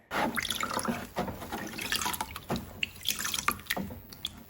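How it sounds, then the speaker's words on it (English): Melted wax poured from a bowl onto a hand, a close, quiet stream of liquid trickling and dripping with irregular splashes throughout. "I'm just pouring this so that I can get layer and layer of wax onto my hand."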